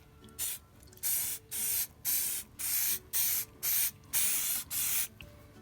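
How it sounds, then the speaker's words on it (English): Short bursts from a rattle can of spray paint laying down a coat: about eight even hisses in a steady on-off rhythm, close and fairly loud, with brief quiet gaps between them and no talking. "Let it dry for about 10 minutes and put it on another coat."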